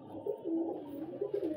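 Soft pigeon cooing, a few low rolling coos close by and fairly loud, from a pigeon being handled at a loft.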